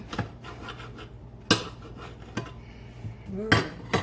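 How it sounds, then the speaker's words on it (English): A knife saws through soft homemade olive oil bread, with a few scraping, rasping strokes and soft knocks against a board, close and intermittent in a quiet kitchen. "So soft that I can't even slice through, but I'm managing"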